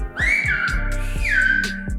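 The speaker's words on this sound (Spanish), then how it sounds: "quiero que me hables en silbo gomero" Whistled speech in Silbo Gomero, the whistled language of La Gomera, forms a single clear, sustained tone that glides in pitch for about two seconds, close and loud.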